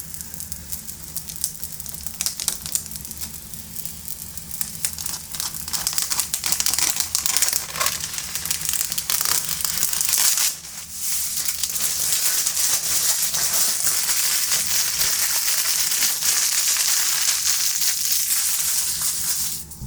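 Protective plastic film being peeled off a new computer power supply unit, a steady crackling, crinkling rasp that runs close and continuous for most of the stretch, with a brief pause midway before resuming.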